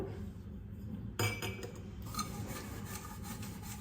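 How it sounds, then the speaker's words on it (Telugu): Brass pooja lamps being scrubbed by hand with tamarind, a close, steady rasping rub with a sharp metallic clink partway through and continued scraping after. "ఇట్లా చింతపండు ఇట్లా వేసి రుద్దుతాను"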